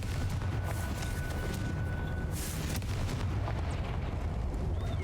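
Confringo blasting curses go off in Hogwarts Legacy on PC as loud, rumbling explosions, a dense continuous barrage of booms with sharp cracks and a bright burst partway through.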